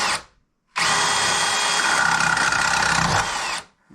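A power drill bores into a part on a Jeep Cherokee, a loud steady whir that starts abruptly after a short quiet pause, holds for about three seconds and then cuts off.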